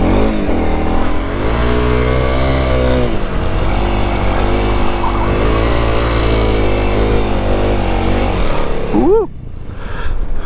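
A Honda CRF 300 Rally motorcycle revs hard and close, climbing in pitch through the gears with a brief dip at each shift, then falling away abruptly near the end.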